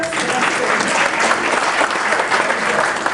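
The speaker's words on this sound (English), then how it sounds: "let's give her a round of applause" A banquet crowd at a chamber of commerce awards ceremony breaks into applause for an honoree, a dense, steady wash of many hands clapping loudly and evenly throughout.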